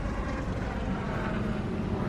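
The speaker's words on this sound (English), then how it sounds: "It's a helicopter." A helicopter passes overhead, a continuous loud, broad rumbling roar with no voices.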